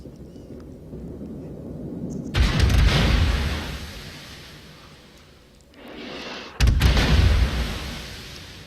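Naval guns fire in World of Warships as two heavy booms, a few seconds apart, each striking loudly and rolling off into a long rumbling decay over low background noise.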